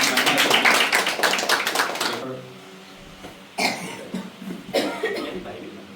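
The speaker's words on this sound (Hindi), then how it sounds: "तालियां बजा के प्रभु की महिमा" A congregation at a Sunday prayer meeting in Indore claps in praise: dense, rapid clapping for about two seconds, then it drops away to quieter sounds and talking.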